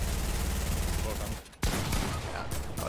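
Gunfire in the video game Fortnite comes as dense, loud bursts of rapid shots that almost fill the clip, with a brief dip before the shooting resumes.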